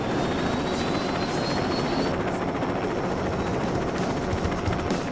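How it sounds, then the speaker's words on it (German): A helicopter flies in the LEGO City Undercover video game, its rotor and engine giving a loud, steady, continuous drone with a faint high whine running through it, no voices. "dass man hier so mit dem Heli langfliegen kann"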